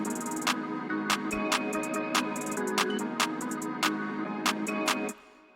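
Crisp hi-hat hits tick through an ambient sample beat programmed in FL Studio, with sharp hat strikes in an uneven bouncing pattern over a warm sustained pad and melody that cut off near the end.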